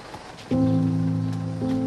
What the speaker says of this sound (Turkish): Ha şimdi otobüs geliyor.